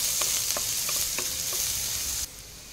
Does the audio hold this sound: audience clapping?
no